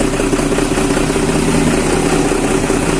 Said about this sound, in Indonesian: dengerin suara knalpotnya mobil Alparuk Mr. Gaplek.